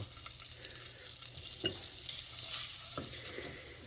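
Cube steaks frying in bubbling bacon grease in a pan, a close bright sizzle with a few stirring scrapes and clicks of a utensil.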